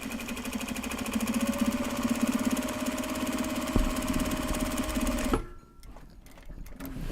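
A sewing machine runs steadily, stitching a seam on a Japanese fabric bag, with a loud continuous motor hum and rapid needle chatter that stops abruptly near the end, leaving quieter handling noises.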